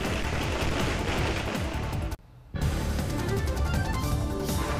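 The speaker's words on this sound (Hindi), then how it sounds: "उनके घर के बाहर फैंस ने फोड़े पटाखे।" Rapid strings of firecrackers set off by fans outside an apartment crackle and pop loudly and continuously, broken by a brief half-second gap before the bursting resumes.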